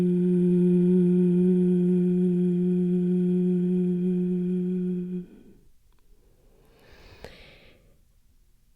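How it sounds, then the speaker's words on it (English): A person hums one steady, sustained note for about five seconds during a beginner's meditation, then stops, followed by quiet breathing. "just beginning to have a hum sound"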